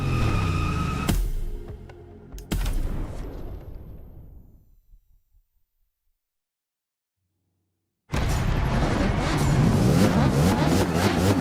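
A Ducati Panigale motorcycle from The Crew Motorfest video game roars loudly through a dark urban race. Engine noise fades into a few seconds of silence, then the engine surges back at full, steady intensity.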